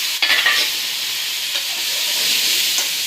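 Onion, tomato, garlic and curry leaves sizzling and frying in a pan for tomato chutney, a steady bright hiss with a sharp clatter near the start and light stirring knocks.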